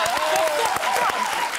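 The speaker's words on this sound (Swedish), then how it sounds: "Till en applåd för det!" A studio audience breaks into applause, a dense, steady burst of clapping with voices mixed in over it.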